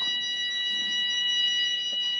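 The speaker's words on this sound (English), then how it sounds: "Fire alarm." A fire alarm sounds continuously with a steady, piercing high-pitched tone, while faint background noise rustles underneath.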